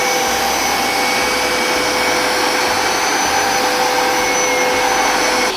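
A carpet cleaning machine running in its dry mode gives a loud, steady motor roar with a high whine, continuous and unbroken throughout with no talking.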